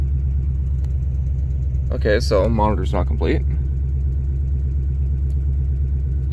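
A V8 Ford Ranger engine with an upgraded fuel system idles steadily with a deep, even rumble close by, while someone talks briefly over it.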